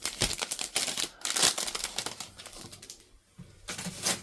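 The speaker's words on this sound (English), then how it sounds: "Sorry for the crinkling." Plastic packaging crinkling close by in someone's hands, irregular bursts of crisp rustling that pause briefly and resume.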